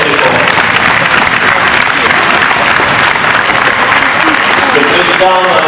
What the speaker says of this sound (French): je crois qu'on peut les applaudir très fort